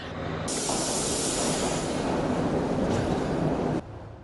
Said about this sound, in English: Trains arrived from several areas across the island to the Colombo Fort railway station this morning.